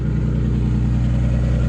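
RB25DET engine in an R32 Nissan Skyline idling steadily after a bump start, a continuous low rumble with no revving, close and alone.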